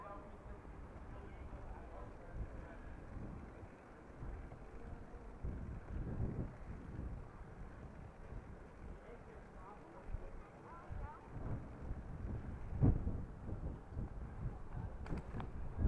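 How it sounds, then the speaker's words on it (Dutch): Wind buffets an outdoor microphone in Groningen, a low rumbling gusty roar that rises and falls throughout, with occasional voices under it. "Nou, het waait hier best aardig door."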